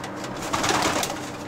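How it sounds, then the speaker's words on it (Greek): Pigeons coo softly in a brief, faint burst of low, rolling calls, heard on their own without talk. "Ωραία, ωραία πουλάκια."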